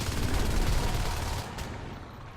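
Shotgun and rifle fire in the video game Natural Selection 2, a dense burst of loud overlapping shots that trails off into a fading tail within a couple of seconds.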